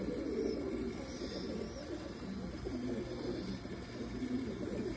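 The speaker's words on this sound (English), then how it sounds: "Just over here looking at the birds" Roller pigeons coo softly and steadily in a loft, a low continuous murmur of several birds with no talk.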